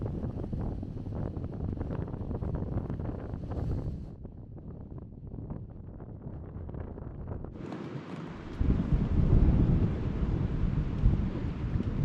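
Strong, roaring wind gusts of about 40 miles an hour buffet the microphone at a dark, empty campsite during a storm, with a quieter lull midway before a louder, rushing gust returns.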